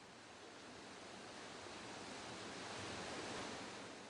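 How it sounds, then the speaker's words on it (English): Turbid floodwater rushing down slopes at high water, a dense unbroken roar like surf that swells slightly toward the end, steady and fairly faint, with no voices. "Streams of turbid water rush down the slopes, washing away the winter mire."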